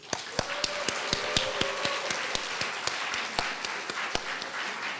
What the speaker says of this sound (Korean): 우리 청년들에게 박수.